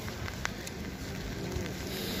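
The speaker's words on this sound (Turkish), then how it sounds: "Yağmur." Rain falls at an outdoor market, making a steady soft patter on surfaces, with a few brief knocks and faint background noise.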